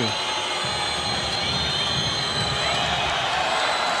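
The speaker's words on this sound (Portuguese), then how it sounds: "O torcedor do Vasco começa a vaiar essa posse de bola longa do Sport." Vasco supporters booing at a 2008 Brasileiro football match against Sport, a sustained low crowd drone filling the stadium at steady loudness, with a commentator talking over it.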